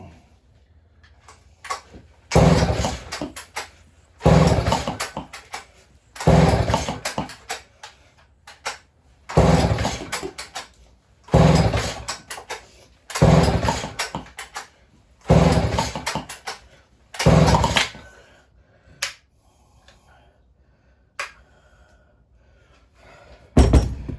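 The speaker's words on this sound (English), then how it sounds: "I'm gonna do a drop start with it and see how it fires." Repeated pull-start attempts on a vintage Canadian chainsaw being drop started with the choke held, about eight rough ratcheting bursts in a steady rhythm with brief pauses between, the engine never catching.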